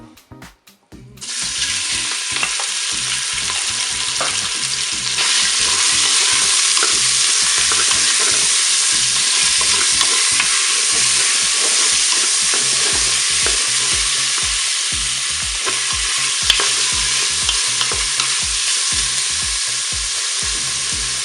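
Beef frying in hot oil in a Cookeo multicooker, a loud, dense, continuous sizzle that bursts in after a second and holds steady, close up.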